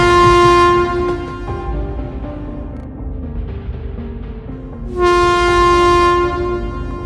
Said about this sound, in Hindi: ये लोग बातें कर ही रहे थे कि तभी अचानक ट्रेन रुक जाती है।